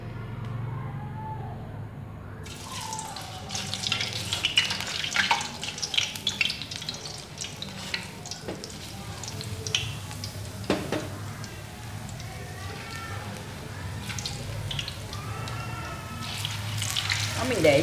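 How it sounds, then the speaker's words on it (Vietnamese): Potatoes fry in a pan of hot oil with a continuous crackling sizzle and scattered sharp pops, close and fairly loud, while a person talks over it. "ta bắt đầu đi chiên khoai tây."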